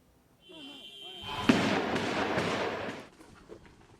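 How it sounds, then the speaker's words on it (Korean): Gunfire echoing through a hotel in Nairobi, Kenya, during a gun and bomb attack: a sharp crack followed by a long reverberant roar, with a brief human vocal sound before it and another fainter pop after. "호텔에 울려 퍼지는 총성에 사람들이 겁에 질려 도망갑니다."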